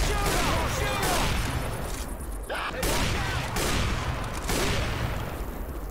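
Dense, sustained gunfire in a chaotic Left 4 Dead 2 versus match, rapid overlapping shots rattling continuously at close range, with shouting voices mixed in.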